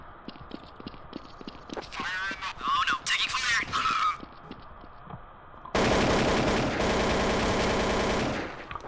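Gunfire in the video game Counter-Strike: Source, with sharp scattered shots early and then a dense, loud burst of rapid firing, while a person talks in between.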